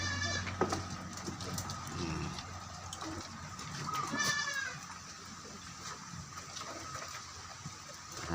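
Goats bleating a few times, including a wavering call midway, against faint outdoor background noise and an occasional distant voice.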